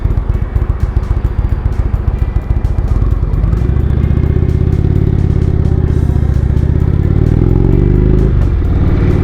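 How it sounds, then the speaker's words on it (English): A 2017 Indian Roadmaster motorcycle engine pulls steadily in third gear, a loud, continuous low throb of firing pulses that deepens and smooths after a few seconds, then dips briefly near the end. "We're in 3rd gear doing hardly anything and it just pulls beautifully."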